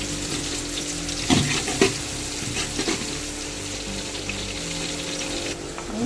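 Chopped onion frying in a pan with ginger and garlic for mandi, a steady sizzle with a few louder clatters of stirring, close and with no talking.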